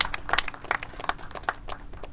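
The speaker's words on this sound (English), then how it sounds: "I just wanted a round of applause for the city staff that's involved in this every day" A small group applauds city staff with a short burst of scattered, uneven hand claps in a room, fading after about two seconds.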